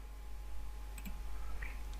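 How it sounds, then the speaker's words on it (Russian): A computer mouse gives a few faint, sharp clicks, a close double click near the middle and a single softer one later, over a low steady hum. "кликаем опять по плюсу"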